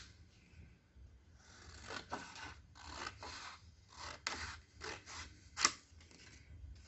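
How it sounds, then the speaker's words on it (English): Ordinary scissors cutting a printed card sheet, a series of quiet crisp snips and rasping cuts at an uneven pace, close but faint, with a few slightly louder strokes. "we have to cut it down with a pair of normal scissors."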